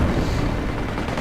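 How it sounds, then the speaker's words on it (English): Gunfire in a World War II strategy video game, with a bunker and a machine gun nest trading shots: a dense, continuous rumble of overlapping shots and low booms, loud and steady throughout. "And we hear some further firing here."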